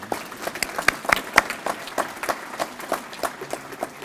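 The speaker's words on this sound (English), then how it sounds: "please give yourselves another round of applause" Scattered clapping from an audience at a university student leadership awards ceremony, fairly light and uneven, with distinct individual claps standing out throughout.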